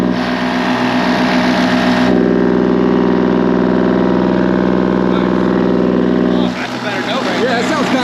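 A mini-excavator engine runs steadily and smoothly at a constant idle-like drone, loud and close, with a small shift in tone partway through and at the end.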